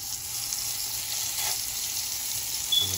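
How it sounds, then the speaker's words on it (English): Beef pieces searing in a hot pan for Chinese beef noodle soup, a steady close sizzling hiss that runs throughout with little change. "Listen to this sizzle."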